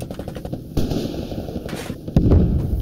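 Bradley infantry fighting vehicle weapon fire in Squad, amid street fighting in Fallujah: two heavy, sharp blasts about a second and a half apart, the second louder, over a constant rumbling battlefield din.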